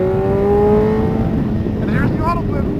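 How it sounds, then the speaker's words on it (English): A BMW HP4 motorcycle pulls hard under acceleration with a quick shift, its engine note climbing and dipping between gears, loud and close with wind rush and a voice briefly heard over it. "That's the quick shift going for you."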